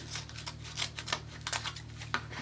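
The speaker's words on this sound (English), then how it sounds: "slide your scissors in between the cardboard and the ribbon, pull up, and then cut." Scissors snip through ribbon held against cardboard, giving a quick series of close, crisp cutting clicks and rasps in an uneven rhythm.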